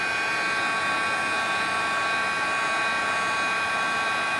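A heat gun blows in a steady, even whoosh with a constant whine, close and unbroken throughout, used on a papercraft card with no voices.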